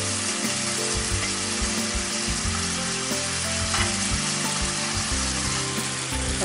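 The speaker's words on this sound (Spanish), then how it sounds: "la cebolla ya está medio cochada y las patatas se están friendo" Potatoes and onions frying together in a pan of oil make a continuous dense sizzle with occasional stirring clatter, steady and close.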